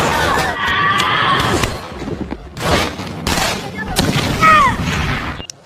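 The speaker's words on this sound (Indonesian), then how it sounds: "sehingga terjadilah baku tembak" Bursts of gunfire from a film action scene ring out as loud, broadband volleys in several separate clusters, with voices mixed in among the shots.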